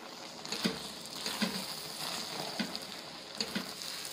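Cuscuz paulista mixture of cornmeal is stirred in a pan, soft rhythmic scraping strokes about once a second over a quiet, faint sizzle, with no voices.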